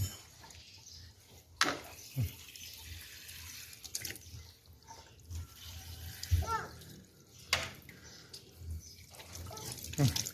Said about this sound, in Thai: เอาจุกมาล้างด้วย